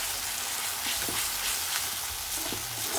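Masala of chili powder, salt and turmeric sizzling steadily in a pan for a tribal sago worm curry, a dense close crackle with soft stirring scrapes throughout.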